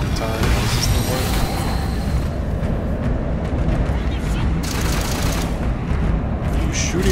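Loud, dense gunfire and explosions from the shooter game Halo 5, continuous rapid bursts and booms with heavy rumble, while people talk over it.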